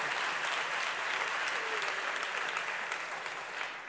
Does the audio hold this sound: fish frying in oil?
no